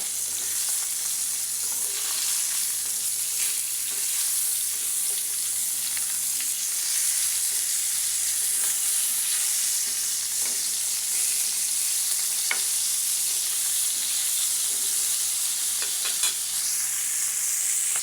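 Pieces of rohu fish fry lightly in a pan, producing a loud, dense, unbroken sizzle and crackle that holds steady throughout, heard up close and alone.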